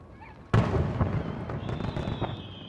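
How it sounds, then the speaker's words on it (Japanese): A single firework bursts with a sharp, loud boom over Miyazu Bay at night during a lantern-floating fireworks festival, followed by scattered crackling and a fading rumble. "夜空には花火が打ち上がり、 海と空を鮮やかに飾ります"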